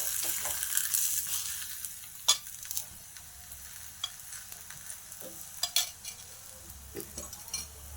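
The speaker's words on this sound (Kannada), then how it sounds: "ನಾನಿವಾಗ ಎಣ್ಣೆ ಹಾಕ್ಕೊಂಡು ಬೇಯಿಸ್ಕೊಳ್ತಾ ಇದ್ದೀನಿ" An aloo paratha fries in oil on a griddle with a soft, steady sizzle, broken by sharp crackles and pops spread through the clip.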